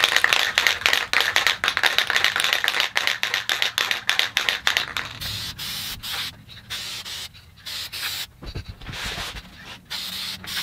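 A can of spray lacquer is shaken hard in a woodworking shop, its mixing ball rattling in a fast, steady rhythm that then breaks into looser, irregular shakes and a brief pause.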